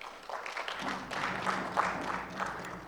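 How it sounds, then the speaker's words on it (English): Audience applause at a national chairman's inauguration ceremony, a soft, moderate patter of claps from a crowd, building after a quiet start and heard at some distance without voices on top. "Please, let's give ourselves a round of applause."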